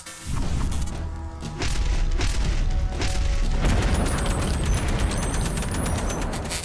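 A 6.8 SPC rifle round from Stanwin Armory fired into ballistic gel, producing heavy booming blasts and a dense, loud roar of rumbling noise that fills the whole stretch.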